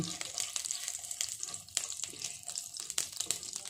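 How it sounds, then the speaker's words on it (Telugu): Mustard seeds in hot oil crackle and sizzle steadily, with frequent sharp pops over a continuous hiss, close and fairly quiet. "ఈ ఆవాలు కొంచెం పట్పట్ వెళ్ళే వరకు కొంచెం వేగనివ్వాలి"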